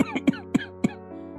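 A weakened, sick elderly man coughs in short bursts, about four dry coughs spaced roughly evenly over a second, close and moderately loud with a faint steady hum beneath.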